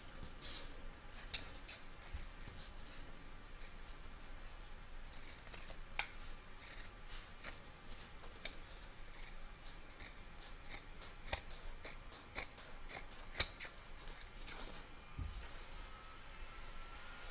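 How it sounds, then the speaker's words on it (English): Scissors trimming around the stitch line of a fabric quilt block coaster, close and quiet: repeated crisp snips at an irregular pace over a faint steady background hiss, with no talking. "we're now going to trim this up around the outside of the stitch line"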